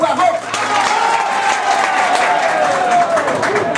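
Crowd applause at an inauguration ceremony for rehabilitation work on sacred lakou sites in Gonaives, a steady wash of many hands clapping throughout, with someone speaking over it.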